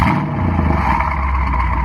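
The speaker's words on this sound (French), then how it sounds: "c'est le bruit au démarrage" A 580-horsepower Brabus car's engine revs on startup, a loud, deep, continuous growl that stays strong throughout with no voices over it.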